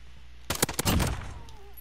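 Several sharp gunshots crack in a rapid burst in a video game, loud and close, then trail off into a quieter background.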